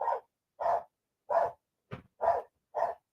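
A dog barks six times in a steady rhythm, each bark short and close, with one sharper, higher yelp near the end; no voices are heard.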